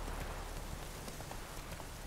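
Steady rain in The Witcher 3: Wild Hunt hisses evenly across the whole clip, a dense wash of drops with faint hoof-like clopping of a horse underneath.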